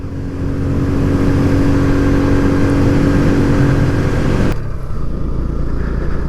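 A 2023 Kawasaki Z125 motorcycle engine revs hard under the rider during a ride, a loud sustained buzzing drone that suddenly drops off near the end as the throttle closes.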